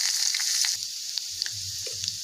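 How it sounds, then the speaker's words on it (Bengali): Beetroot and carrot added to hot oil tempered with dry chilli and bay leaf: a loud hissing sizzle that settles into softer frying, with a few spoon taps and stirs, close and with no voices. "ফোড়নে শুধু শুকনো লঙ্কা তেজপাতা ফোড়ন দিয়ে আমি বিট আর গাজর ভাজাটা এর মধ্যে তুলে দেব"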